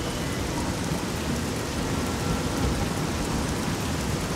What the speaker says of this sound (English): Wow, it's really raining.